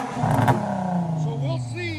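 A loud car exhaust on a stock muffler, revved in one sustained engine drone with a brief rise near the start, heard close up under someone talking.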